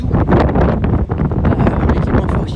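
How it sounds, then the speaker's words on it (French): Wind buffeting a microphone outdoors during a run, loud rough blustery rumbling and rushing that fills the whole clip, close and continuous. "Il y a du vent."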